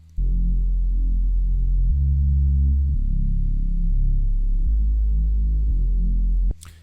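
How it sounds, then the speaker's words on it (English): A deep, sustained synth sub bass, carrying only the low frequencies, droning alone and shifting between a few low notes before cutting off abruptly. "This is the sub, so it's the same bass"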